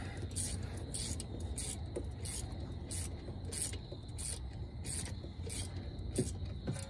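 A ratchet wrench clicks in quick regular bursts as bolts are tightened on the front brakes of a 2014 Jeep Grand Cherokee, close by, over a low background rumble.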